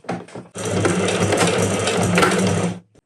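A sewing machine stitches an elastic pin hem, running in one loud, continuous burst of rapid mechanical clatter for about two seconds after a few brief handling clicks, then stopping abruptly.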